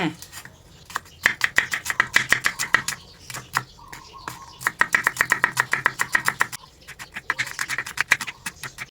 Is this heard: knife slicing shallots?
yes